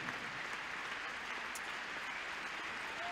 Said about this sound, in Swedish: och en varm applåd till 29 år unge Briar